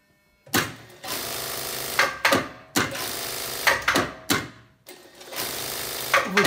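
Brother Exedra straight-stitch industrial sewing machine, freshly reassembled after repair, running in loud rapid bursts of stitching separated by brief pauses, close by with no talk.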